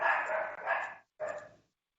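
A dog barks indoors at home, loud and close, giving two drawn-out harsh barks in quick succession and then a shorter third bark after a brief pause.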